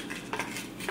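A scoop dips into a tub of Trader Joe's whey protein powder for a smoothie, giving a few brief, close scraping clicks over less than a second.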